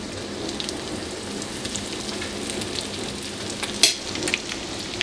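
Walleye pickerel fillets coated in egg and breadcrumbs fry in a pan, giving a steady close hiss and crackle of sizzling oil with a few sharper pops near the end.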